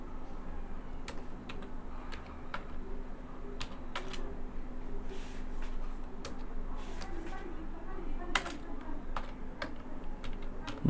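Computer keyboard typing, a steady run of close, quick key clicks with occasional louder strikes, continuing alone over a faint background hum.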